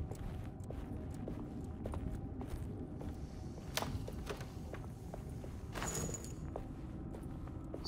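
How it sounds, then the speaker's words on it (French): Muffled footsteps sound from the floor above in the Alone in the Dark reboot game, a faint, evenly paced series of soft thuds over a low ambient drone. "On entend des bruits de pas au-dessus."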